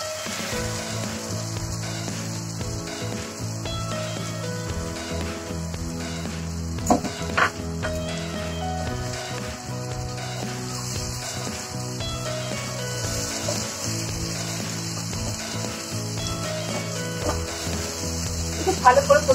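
Prawn masala curry sizzles and fries continuously in the pan as cashew paste is added, a steady crackling hiss with a few brief stirring knocks partway through and no speech.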